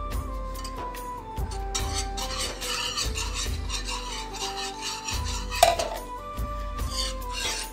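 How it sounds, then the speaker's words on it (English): Milk and milk powder are whisked together in a pan off the flame, giving a steady rhythmic scraping and clinking of the whisk against the metal, close and continuous with brief stronger knocks. "We just whisk it well together."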